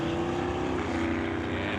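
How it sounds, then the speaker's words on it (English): A BMW drag car spinning its wheels at the start line of an NHRA Summit ET Series race, a steady loud engine roar with a sustained tonal drone throughout. "lots of wheel spin on that BMW"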